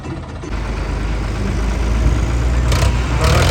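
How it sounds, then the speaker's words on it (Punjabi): A wheat threshing machine runs at full motor power, a loud, steady low engine rumble and drone that builds slightly and holds close throughout. "ਹੁਣ ਚੱਲੀ ਆ ਮਸ਼ੀਨ ਪੂਰਾ ਵਾਲੀ ਮੋਟਰ ਤੇ"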